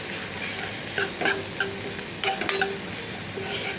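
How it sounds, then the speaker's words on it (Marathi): Chopped onion frying in hot oil in a pan for pithla, with a steady sizzle and repeated scrapes and taps of a spoon stirring it. "कांदा व्यवस्थित परतून घेऊया"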